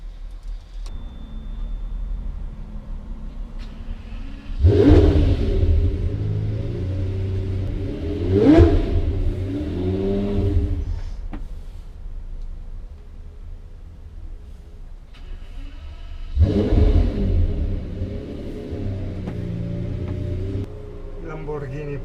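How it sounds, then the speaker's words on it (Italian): A tuned Lamborghini engine revs in three deep, rising bursts, with a rumbling idle between them and a speaking voice over it. "Lamborghini preparato."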